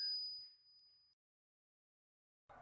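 A single bright bell ding rings out and fades into silence, followed by a brief burst of noise at the very end.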